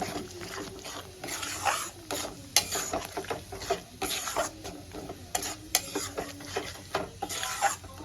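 Egg curry masala with yogurt cooks on a low flame as a spatula stirs and scrapes the pan repeatedly in an irregular rhythm over a soft sizzle, close by, with no speech.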